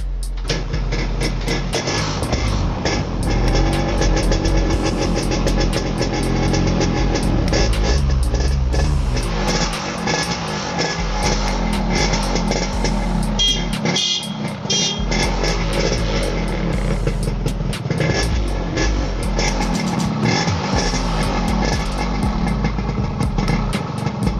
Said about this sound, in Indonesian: Kita panasin dulu karena motornya udah lama gak dipanasin ya